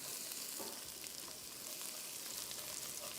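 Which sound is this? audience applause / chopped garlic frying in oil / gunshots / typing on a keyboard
chopped garlic frying in oil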